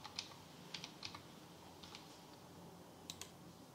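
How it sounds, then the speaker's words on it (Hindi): Quiet, scattered keystrokes on a computer keyboard as a short search term is entered into a finance website's search box, clicks coming in small irregular bursts with pauses, alone with no voice. "अब इसमें हम ये सर्च में जाके डीवी स्लैब टाइप कर लेते हैं।"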